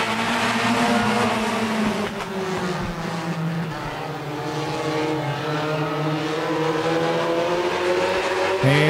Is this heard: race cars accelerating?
yes